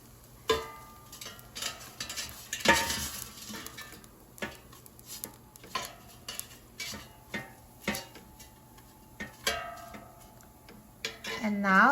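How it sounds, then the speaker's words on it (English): Pasta chips are tossed with a spatula in an air fryer basket, giving a series of sharp clacks and scrapes against the metal at an irregular rhythm, close and fairly clear. "you can shake or use a spatula, but you basically want to mix them so they're not stuck together"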